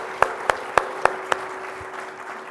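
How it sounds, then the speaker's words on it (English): Applause from members gathered at a golf club meeting, heard as five sharp, evenly spaced claps or short bursts, fairly close, over a low room murmur with no talking. "I would love to have a round of applause to our staff"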